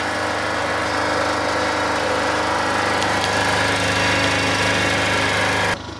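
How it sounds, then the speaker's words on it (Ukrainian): A power generator engine runs inside a garage with its exhaust pipe routed outside, producing a loud, steady droning hum with a constant low-pitched tone that holds evenly for about six seconds before dropping slightly at the end. "Отакий ми придбали генератор."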